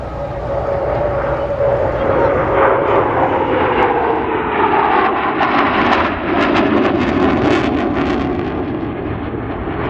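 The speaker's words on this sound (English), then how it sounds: "F-15 Eagle" Loud, steady jet engine roar of an F-15 Eagle at an air show, sustained throughout, a broad rushing drone with a slowly shifting whine as it passes close.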